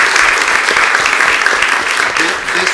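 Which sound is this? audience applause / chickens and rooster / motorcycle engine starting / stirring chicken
audience applause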